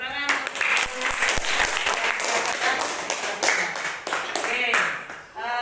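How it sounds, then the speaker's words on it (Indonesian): Children in a classroom clap together in sustained applause, a dense burst of many hands, with voices talking over and around the clapping at the start and end. "Oke, tepuk tangan."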